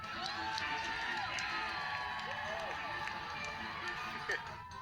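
An excited crowd at a Disney theme park cheers and shouts continuously, with whoops and scattered voices rising over a steady roar of people.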